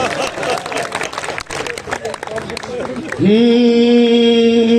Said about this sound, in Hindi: ताली बजाओ एक बार भाई साहब के चरणों में ताल बजाओ